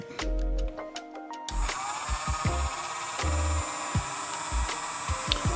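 A small power drill runs steadily on a part of a 1/60 scale model kit under repair, its continuous whine broken by a few short bursts and bumps close to the microphone.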